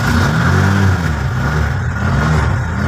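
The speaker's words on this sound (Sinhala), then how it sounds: "අපි මැනුවල් ගියර් වලින් මැනුවල් ලිවර් එක ඇදලා ස්ටාර්ට් කරලා බලමු" A three-wheeler engine runs loud and close, holding a steady, throbbing drone with a slight rise in revs near the start.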